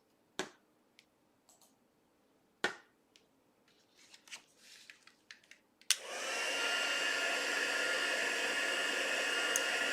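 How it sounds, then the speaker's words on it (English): A heat gun blows hot air over embossing powder on a stamped card, switching on with a click and roaring steadily and loudly after a few taps and light rustling at the start. "Bring in my heat gun."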